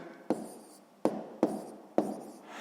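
A pen or chalk writes numbers for a column subtraction, four crisp scratching strokes in quick succession, close and clear, with no voice over them.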